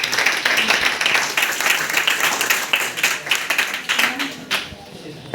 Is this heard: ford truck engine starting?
no